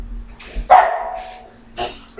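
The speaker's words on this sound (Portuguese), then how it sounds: "meus cachorros estão latindo porque meu filho chegou, Joel, nesse momento." Several dogs bark at a home, a sharp burst followed by a longer bark, then another loud bark and a final yip near the end, close and loud with no talk over them.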